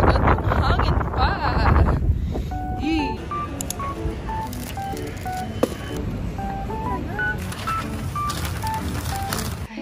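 Strong wind blows outdoors in snowy winter weather, a steady low buffeting roar on the microphone that runs the whole time. Electronic beeping tones and a talking voice sit on top of it.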